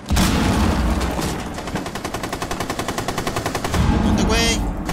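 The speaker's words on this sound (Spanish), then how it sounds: "¿A quién está disparando?" Rapid automatic gunfire in the Rainbow Six arcade mode, a loud sustained burst of evenly spaced shots over a dense background of other game noise and distant firing.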